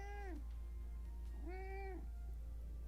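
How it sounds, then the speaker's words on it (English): A cat meowing in the video game Valkyria Chronicles: two clear, drawn-out meows about a second apart over a low steady hum, with no talking. "What are you meowing at me for? Stop it."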